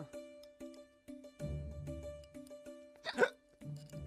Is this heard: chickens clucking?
no